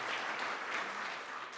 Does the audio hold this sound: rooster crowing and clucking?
no